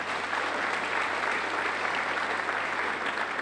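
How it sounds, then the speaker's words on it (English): An audience applauding steadily at an evening community history talk, a dense even wash of clapping that holds at a constant level for the whole span with no voices. "Nice round of applause."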